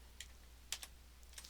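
A few sparse key presses on a computer keyboard, entering a Control-D shortcut in a Linux terminal; three or four soft clicks stand alone over a faint low hum.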